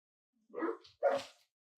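A dog gives two quick, fairly close barks in succession, the second sharper than the first, against otherwise quiet indoor surroundings.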